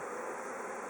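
Honey bees buzz steadily at a hive during brood donation, a continuous close-range drone with no voices.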